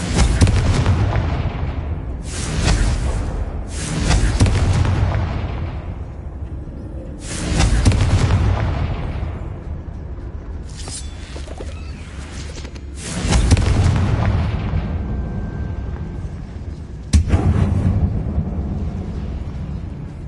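Confringo spells detonate inside an abandoned mine in a Harry Potter video game: a series of heavy, booming blasts, each followed by a rumbling decay, spaced a few seconds apart and played loud without speech.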